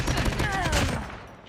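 Rapid bursts of gunfire from a first-person shooter game, dense and loud across most of the moment before fading toward the end, with faint voices underneath.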